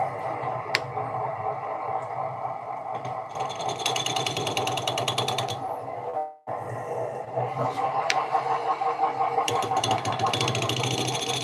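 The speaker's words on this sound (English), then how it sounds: "So I'm gonna have to turn it to clean it up real quick. Try to use my scraper." Wood lathe spinning a birdhouse blank while a scraper takes light passes, a steady motor whir with rattling, chattering contact bursts and a brief dip in the middle.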